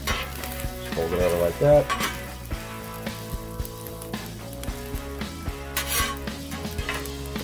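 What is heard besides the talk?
omelet mixture frying on a griddle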